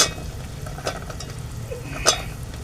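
Chopped val beans, potato and brinjal go into a hot pan with a soft sizzle and a few scattered scraping clinks, close and faint with no talk.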